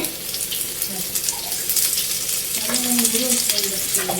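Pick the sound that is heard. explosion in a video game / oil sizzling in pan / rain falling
oil sizzling in pan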